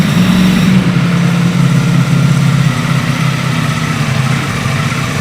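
A Ducati Panigale V4R superbike with its stock exhaust runs at a steady, loud, deep idle, a continuous low rumble with no break and no voices.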